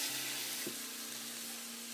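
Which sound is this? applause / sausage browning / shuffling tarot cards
sausage browning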